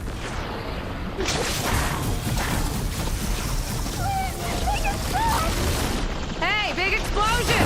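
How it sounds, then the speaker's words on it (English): A large explosion bursts amid chaotic combat in Horizon Forbidden West, a loud continuous roar and whooshing under overlapping game voices and shouts, with whistling machine cries near the end. "big explosion! Watch out!"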